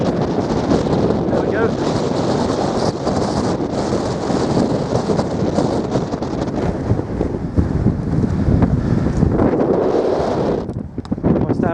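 Strong wind roars and buffets the microphone continuously on the hilltop of Dunkery Beacon, a heavy rumbling gusty rush that barely lets up.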